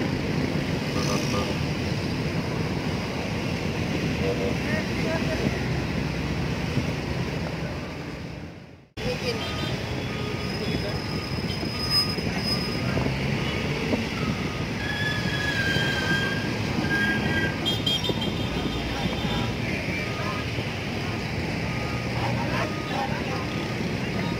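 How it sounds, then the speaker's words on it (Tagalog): Strong wind gusting along the Manila Bay shoreline, a loud, unbroken roar buffeting the microphone for the whole stretch, with one brief sharp dropout near the middle. "Malakas ang hangin guys, pagpasensya nyo na."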